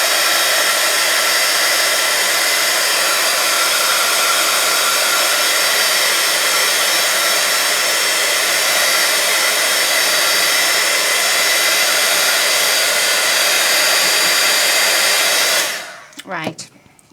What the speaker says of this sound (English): let's quickly dry this so that we can get our next layer of trees on